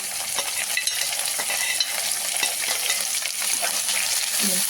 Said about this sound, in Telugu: ఒక చిన్న టమాటో, ఇంకా క్యారెట్, బీన్స్ ఒకసారి ఇలా ఫ్రై చేయండి